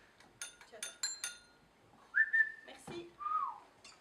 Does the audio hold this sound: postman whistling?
yes